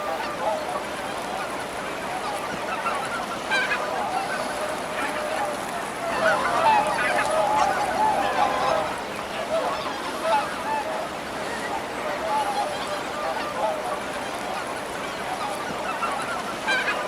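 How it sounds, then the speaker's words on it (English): Whooper swans in the Danube Delta give faint, distant honking calls, scattered across a steady wash of wetland background noise. "The whooper swan, Cygnus cygnus, is not a symbol of elegance here."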